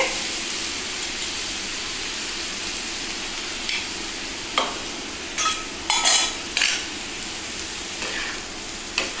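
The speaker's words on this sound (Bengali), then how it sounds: "এবার আমি দিচ্ছি আলুগুলো দিয়ে নিই, চিকেনটাও দিয়ে নিই, একবারে সব দিয়ে" Potatoes and chicken are added to a biryani pot of rice and ghee, giving a steady, close frying sizzle with scattered scrapes and clinks of a stirring utensil against the pot.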